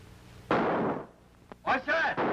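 Bursts of gunfire and cannon booms, a sustained loud blast followed by a short crack and then a cluster of harsh, rumbling detonations, heard in a comedy scene amid speech-like sounds.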